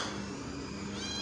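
A cat gives a single drawn-out, strained meow, fairly close and clear, its pitch bending upward toward the end, with no talking over it.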